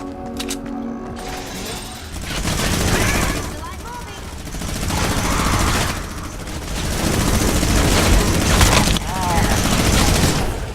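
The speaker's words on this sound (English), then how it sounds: "Let's go ahead and test out her minigun here" Minigun firing in Fortnite Save the World, sustained loud rapid automatic fire in long bursts with short gaps, mechanical whirring and game effects underneath.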